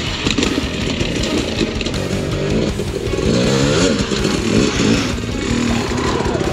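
Enduro motorcycles ridden on a trail on Vancouver Island, with a loud, continuous two-stroke engine buzz that rises and falls as the throttle is revved, close to the listener throughout.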